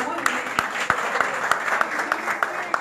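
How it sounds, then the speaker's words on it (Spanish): Applause for a senator at a political campaign meeting in La Romana, with sharp, spaced claps standing out over a murmuring crowd and some speech. "un aplauso a la senadora"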